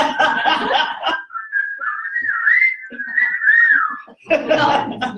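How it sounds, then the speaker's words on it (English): Someone whistles a wavering tune for about three seconds in York, bracketed by bursts of chatter and laughter from a small group close by. "Shall we have a whistle?"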